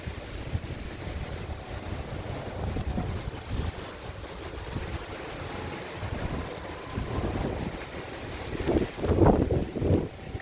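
Gusty thunderstorm wind buffets the microphone outdoors near a street in Virginia Beach, a steady low roar that swells into stronger rumbling gusts near the end.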